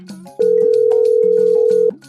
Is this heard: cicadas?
no